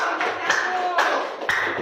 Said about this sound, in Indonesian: Ayo tepuk tangan kasih semangat.